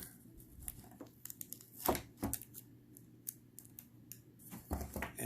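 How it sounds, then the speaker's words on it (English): Tape peeled off an embroidery project for a purse after it comes out of the machine, heard as a series of close, short crinkly tearing and rustling bursts, quiet and irregular with no voices. "I'm going to remove this tape here."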